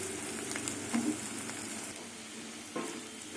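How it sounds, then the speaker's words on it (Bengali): Carrot and bitter gourd frying together in oil give a steady close sizzle, with a couple of louder spatter bursts and faint stirring scrapes partway through, no voices. "গাজর আর উচ্ছে ভাজা হয়ে গেছে একসাথে"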